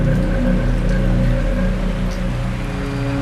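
A sudden downpour at the doorway of an abandoned 1960s house in La Union comes through as a dense, continuous wash of rain hiss with a low rumble underneath, close and fairly loud throughout.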